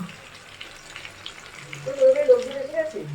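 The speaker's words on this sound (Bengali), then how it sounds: "মা বানাচ্ছে ফিশ ফ্রাই দেখো" A fish fry cooking in a pan gives off a soft, steady sizzle, and a voice rises briefly over it near the end.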